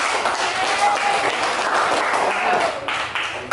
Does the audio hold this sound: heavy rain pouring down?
no